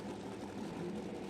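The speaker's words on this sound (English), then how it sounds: "engine underneath the hood of that Ford Mustang." A Ford Mustang doorslammer drag racing car's engine rumbles steadily at a drag strip, a dense, continuous low roar with no clear revving changes.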